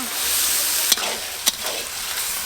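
Onion with ginger paste and garlic paste frying in a pan at a New Year family picnic, a steady broad hiss with two sharp scraping clicks of a spatula partway through, close and fairly loud, no voices.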